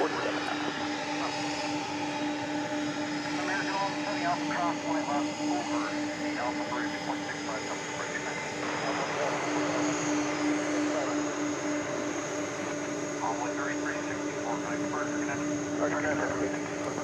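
An Airbus A380 approaching DFW Airport at night gives a steady, distant jet engine drone throughout, with faint radio-like tones and chatter in the background.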